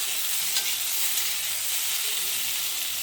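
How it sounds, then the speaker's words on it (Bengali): Potatoes, green papaya, onion and green chillies frying in a pan give a steady, close sizzle with faint stirring scrapes, continuous and even throughout with no talking. "লাল লাল করে ভেজে নেব"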